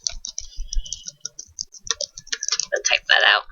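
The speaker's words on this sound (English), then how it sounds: "I can't type and talk at the same time" Typing on a computer keyboard at a desk, a rapid run of light key clicks, loud and close, with a denser burst near the end.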